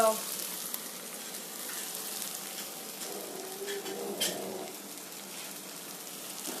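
Rusks warm in a pan over a flame, giving a continuous soft, close sizzling hiss like light frying that holds steady with a few faint clicks and no voices.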